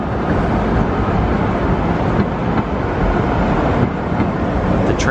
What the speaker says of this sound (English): The train and the bus going by.